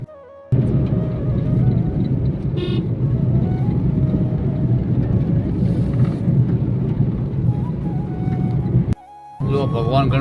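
A car drives on a rough, monsoon-damaged unpaved road near Palanpur, a steady loud engine and road rumble from inside the cabin that runs almost without a break, cutting out briefly near the end.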